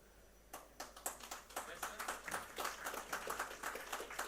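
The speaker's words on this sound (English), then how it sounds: "A huge round of applause for everyone." At a chemicals and petrochemicals industry event in Gujarat, an audience breaks into applause. It begins as scattered claps and swells into a steady, moderately distant round of clapping.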